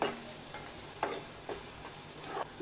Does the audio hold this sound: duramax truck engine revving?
no